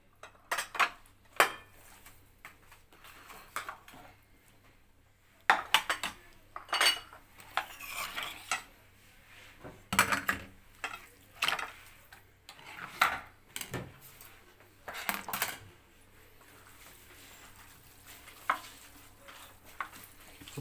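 Food is mixed with chermoula marinade in a dish, with repeated clinks and scrapes of a utensil against the dish coming in irregular bursts of stirring, close and fairly quiet with brief pauses between.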